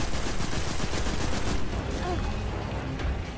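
Heavy cannon fire in the video game Destiny 2 during a Minotaur boss fight, a dense, continuous barrage of loud repeated shots that eases slightly partway through, with game noise around it.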